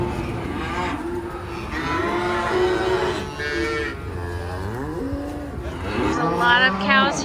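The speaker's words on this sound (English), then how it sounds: "There's a lot of cows here already." Highland cattle low and moo at a cattle auction, several long drawn-out calls overlapping at close range, some rising and bending in pitch.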